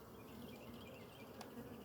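Bees buzzing around a hive entrance, a dense steady hum of many insects close by, faint overall, with a brief sharp click near the end.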